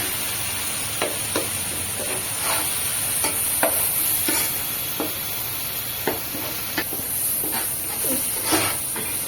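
Spice paste for a Guntur-style Andhra mango fish curry fries in hot oil with a steady, close hiss, broken by about a dozen short scraping stirs that come at an uneven rhythm.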